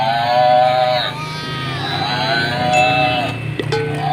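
A toy dairy cow, switched on, plays a looping electronic animal call with repeated bleating tones, loud and close against steady background noise, ending in a few clicks.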